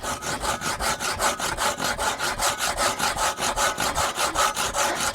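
A large saw cuts through wood in fast, even back-and-forth strokes, each a loud rasping pass in a steady rhythm, heard alone and close.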